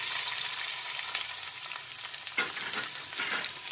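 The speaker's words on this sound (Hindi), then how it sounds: "प्याज को हल्का भून लेते हैं।" Onions frying in hot oil in a pan while making chowmein momos, a close, dense crackling sizzle with a couple of stirring scrapes, no voices.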